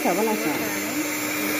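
An Usha 300-watt hand blender beating two eggs gives a steady, close, high-pitched motor whine that holds throughout, with a brief voice speaking over it at the start.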